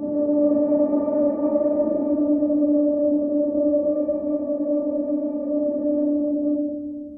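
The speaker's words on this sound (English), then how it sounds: "this is a guitar sound that I made with all these pedals." An electric guitar tone run through a chain of many effect pedals gives a steady, sustained, heavily processed drone with bright harmonic layers. It holds loud and even for about seven seconds and fades slightly at the end.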